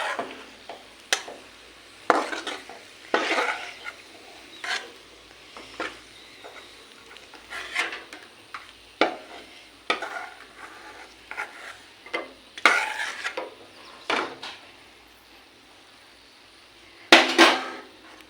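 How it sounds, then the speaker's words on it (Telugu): Dry fruits frying in ghee in a pan for coconut jaggery rava laddu, with irregular clinks and scrapes of a spoon stirring against the metal over a faint sizzle, close and without talk. "ఈ విధంగా కలర్ వచ్చేలాగా ఫ్రై చేసి పక్కన పెట్టుకోవాలి డ్రై ఫ్రూట్స్ని"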